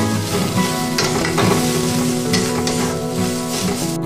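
Loud, continuous sizzle of soya filling being stir-fried in a wok until it clumps, with a spatula scraping the pan in repeated strokes.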